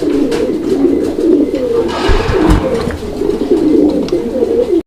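Racer pigeons at a fancy pigeon farm coo steadily and close up, with overlapping soft, throaty calls running the whole time and no voices.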